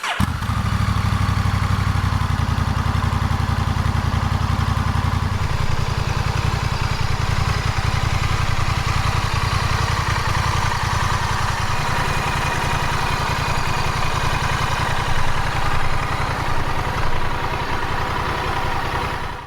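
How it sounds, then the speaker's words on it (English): A Honda CMX1100 Rebel with a 270-degree crank engine idles steadily and loudly up close, a deep throbbing pulse with rhythmic vibration that holds evenly throughout with no voices. "The 270-degree crank gives the engine a distinct feel and sound, blending cruiser vibes with modern performance."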